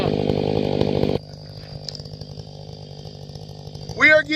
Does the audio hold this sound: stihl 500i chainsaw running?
yes